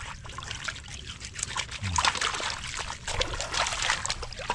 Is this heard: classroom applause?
no